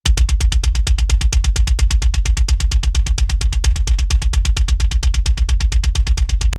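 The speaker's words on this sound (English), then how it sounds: "So this is just the kick drum." A kick drum played alone in a fast, steady stream of deep thumps, evenly spaced and punchy, with nothing else beneath.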